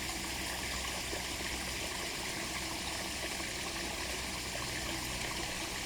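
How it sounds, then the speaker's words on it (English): Water trickling and splashing steadily back down into a swimming pool, recorded close to the water surface, a continuous even burble with no voices. "I try to get low on the water level so you can see the water coming down on below there"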